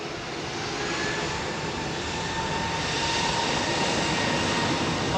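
A Vietnam Airlines jet airliner takes off at London Heathrow Airport, its engines a loud, continuous roar that builds gradually and holds, heard alone without voices.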